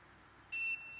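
A multimeter's continuity beep while its probes check the pins of a coil pack on a mobile phone board: one steady, high electronic tone that starts abruptly, faint, with no talking.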